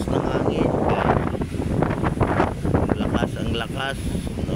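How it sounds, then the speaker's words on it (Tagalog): Strong gusting wind at Manila Bay roars and buffets the microphone in a dense, continuous rush, with a voice talking over it. "Lakas ng hangin, guys."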